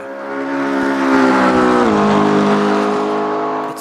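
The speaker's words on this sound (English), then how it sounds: "It sounds good, it sounds meaty, the engine does sound meaty." A race car engine in the Automobilista 2 racing game roars loudly and steadily, its pitch holding then dropping slightly as the car slows on a track, with no voice over it.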